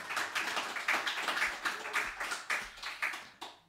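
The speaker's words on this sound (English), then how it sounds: "Big round of applause." An audience at a folk music concert claps in quick, fairly light bursts, a close patter of hand claps that lasts a few seconds and then fades.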